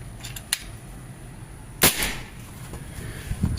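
A Predator Monel Biggame PCP air rifle (4000 psi, sidelever magazine) fires one sharp, loud shot midway through, preceded by a fainter click, against a quiet background.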